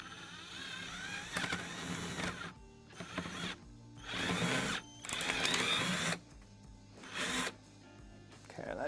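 An electric drill plate cutter bites into thin stainless steel in a series of loud, harsh bursts, roughly six grinding spurts separated by short quieter pauses.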